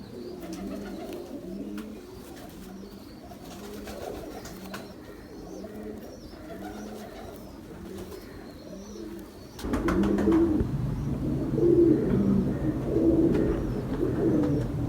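Pigeons cooing close by, a steady series of soft, low repeated coos in a regular rhythm, growing louder and busier toward the end with a faint background rustle.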